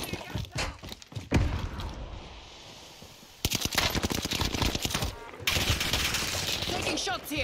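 Gunfire in Call of Duty Warzone: bursts of rapid automatic shots, a quiet gap, then dense sustained volleys and scattered single cracks, loud and close with more distant shots mixed in.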